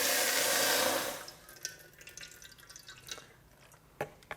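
About half a cup of water is poured into a wok, giving a loud rushing pour that stops after about a second, then scattered faint drips and small splashes.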